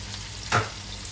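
Garlic hitting hot olive oil in a pan gives a short sizzling burst over a steady background frying hiss, heard alone without talk.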